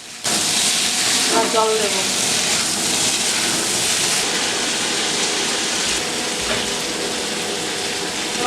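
Fried tangra fish and deep-fried biuli (urad) lentil fritters drop into spiced potatoes in a pan, setting off a steady, loud broadband sizzle that runs continuously from start to end.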